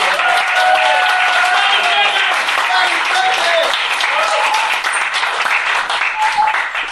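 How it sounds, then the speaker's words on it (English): A launch-party crowd applauds a percussionist with loud, sustained clapping that fills the room and carries faint voices and cheers beneath it for several seconds. "let's just get one more round of applause"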